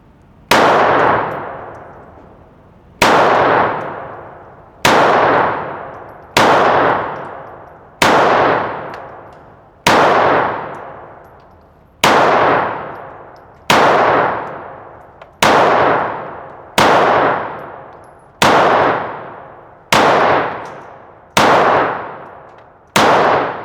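Glock 25 Gen 3 pistol fired at a range, loud sharp reports spaced about one to two seconds apart, each with a ringing decay, thirteen or so shots in a slow steady string.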